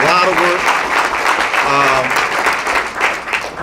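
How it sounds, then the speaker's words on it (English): A crowd claps steadily in a dense wash of applause while a voice speaks over it, loud and close, for the whole stretch. "I want to give them another round of applause."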